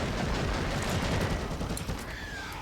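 Rapid bolter gunfire from the Warhammer 40k: Eternal Crusade video game rattles in a dense, continuous fusillade of overlapping shots, loud and close, with battle noise filling the background.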